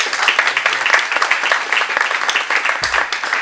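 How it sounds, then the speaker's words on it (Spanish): Dense audience applause fills a cultural heritage seminar hall, a steady wash of many hands clapping close and loud for the full stretch, with a brief low thump near the end. "Por favor, un fuerte aplauso."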